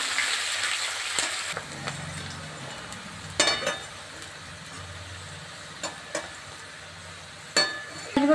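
Onions fry in oil with a pinch of salt for Bengali duck curry. A soft, steady sizzle holds throughout, broken by a few sharp stirring scrapes and clinks against the pan, with no one speaking.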